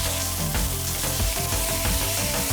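Vietnamese-style pork chops marinated with lemongrass sizzling on a grill, a loud, continuous close crackle and hiss with a low steady hum under it.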